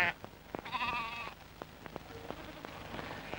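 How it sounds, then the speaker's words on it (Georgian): A flock of sheep heading up to mountain pastures, with one brief, wavering bleat standing out over a steady background of light patter and scattered clicks. "წავიდა ჩვენი ცხვარი იალაღებზე"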